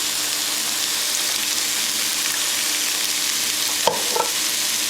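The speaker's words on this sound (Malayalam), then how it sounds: "നന്നായിട്ട് ഇളക്കിക്കൊണ്ടിരിക്കുക" Steady soft sizzling from a pan of white sauce for a chicken-vegetable pie, stirred on low heat with gentle scraping of a spoon, and a brief clink near the end.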